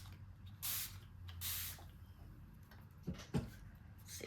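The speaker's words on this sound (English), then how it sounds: "Let's spray." Two short bursts of a spray bottle misting, clearly audible at moderate distance, followed later by a couple of sharper knocks or clicks; no talking.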